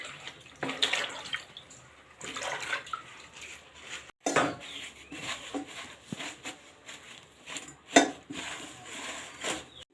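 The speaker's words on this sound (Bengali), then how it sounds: "চাল কুমড়া পাতাগুলো আমি প্রথমে একটা একটা করে ভালো করে ধুয়ে নেব" Ash gourd leaves are washed one by one in water, with splashing, sloshing and dripping sounds and occasional clinks of a pot or bowl, close and moderately quiet.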